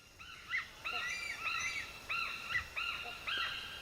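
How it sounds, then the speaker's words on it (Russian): A white-crowned hornbill in Thailand's forest gives a series of clear, repeated whistling calls, about six evenly spaced phrases at moderate distance over a quiet background. "Другой – азиатский белохохлый калао."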